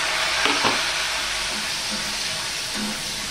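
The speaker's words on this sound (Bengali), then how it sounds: "আদা টমেটো এটা আমি একটু কষিয়ে নেব বা রান্না করে নেব" Tomato and ginger paste fry in spiced oil for a vegetarian paneer curry, a steady close sizzle with a few stirring scrapes near the start, alone without talk.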